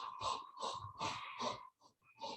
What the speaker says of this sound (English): Block the other one, sniff through one.